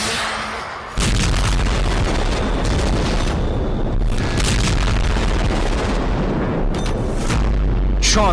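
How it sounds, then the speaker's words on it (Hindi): Missile strike explosions in Ukraine during a Russian night attack, heavy continuous booming and rumbling with repeated blasts, loud and sustained throughout. "रूस ने यूक्रेन पर एक ही रात 34 मिसाइलों से हमला कर दिया"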